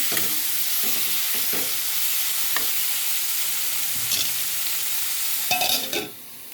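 Bitter gourd and tomato curry cooking in a pan, with a continuous sizzle and intermittent stirring scrapes and clacks of a spoon, louder toward the end, no talking.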